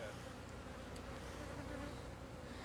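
Bees from a rooftop hive being removed give off a constant, dense buzz that holds steady throughout, close and fairly loud, with no speech over it.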